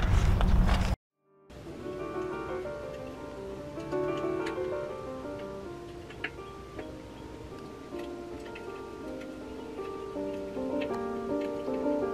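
Steady rain falling at night around 4 a.m. on Christmas, a continuous soft patter with scattered drips and ticks on surfaces, moderately loud and constant after a brief silent gap near the start, with no talking.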